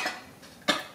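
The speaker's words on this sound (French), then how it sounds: "En ce moment, on tousse beaucoup" A single sharp cough bursts out near the end, preceded by softer breathy noise, close and fairly loud against a quiet background.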